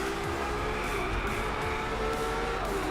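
A loud race car engine in the Driveclub racing game, with a steady, dense roar and rising and falling revs that hold throughout without any talk.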